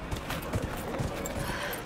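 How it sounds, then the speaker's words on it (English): Horse hooves clip-clop steadily at a walking pace in Dragon Age: Inquisition, a moderately loud, rhythmic thudding over game ambience, with faint talk in the background. "To mount a horse,"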